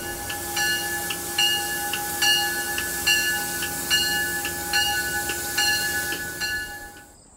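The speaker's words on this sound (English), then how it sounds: "So this train goes all the way into New York City." A passenger train bound for New York City rolls past with a steady rumble and a regular clicking rhythm of wheels over rail joints, fairly close and continuous, with no talk.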